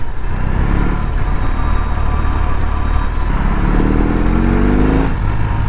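A 1800cc motorcycle engine drones steadily and loudly while being ridden, a thick, constant rumble with slight shifts in pitch and no pauses.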